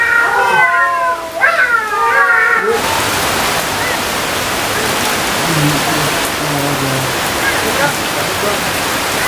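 Cat meowing, several rapid repeated meows close by, then cut off abruptly by a steady hiss like heavy rain, with faint talking underneath.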